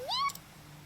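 A single short rising meow from a cat in the video game Octopath Traveler, clear and moderately quiet, followed by faint ambient game sound.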